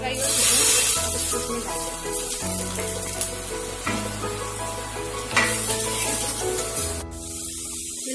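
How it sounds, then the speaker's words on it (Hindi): Garlic, onion and whole spices fry in a pan for a paneer dish, with a loud continuous sizzle, occasional stirring clatter and a brief spattering burst near the end. "ये लहसुन प्याज हमारा भूनता है, गोल्डन ब्राउन होता है"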